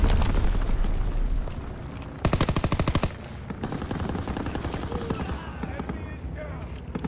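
Rapid automatic gunfire in Call of Duty: Black Ops III, a loud dense burst of shots in a steady rhythm amid ongoing combat noise, with voices speaking around it.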